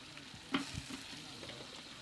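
Quail pieces go into a kadai of softened tomato masala with rock salt, coriander and mint, giving a single soft plop followed by a faint, low sizzle with light stirring.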